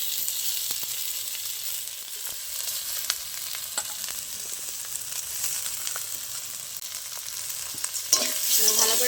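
Mashed boiled potato being fried and stirred with spices and onion in a pan, a steady close sizzle with scraping spoon strokes throughout, no voices.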